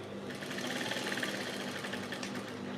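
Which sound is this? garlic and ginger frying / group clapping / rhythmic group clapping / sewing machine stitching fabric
sewing machine stitching fabric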